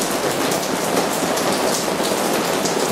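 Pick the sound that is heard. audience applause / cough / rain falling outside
rain falling outside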